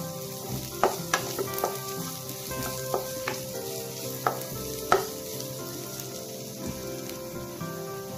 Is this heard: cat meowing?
no